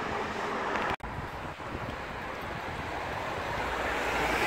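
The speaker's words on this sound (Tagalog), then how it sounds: "Pero malakas pa rin ang hangin." Steady strong wind from Typhoon Lingling sweeping over the Korean peninsula at night, a continuous broad roar with a brief sharp dropout near the start and no speech.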